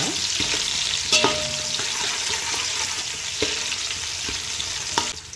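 Onion pieces frying in oil for a vegetable biryani make a continuous close hiss and sizzle, with a few sharp clinks and scrapes from stirring and no talking.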